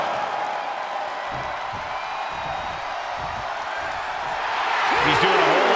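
A crowd in the wrestling video game WWE 2K23 cheers and roars steadily in the background, with a few thuds and a commentator talking over it as the noise swells near the end.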